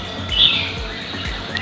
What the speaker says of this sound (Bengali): এক একটার পর এক একটার পাখির ডাক শুনতে পাওয়া যাচ্ছে।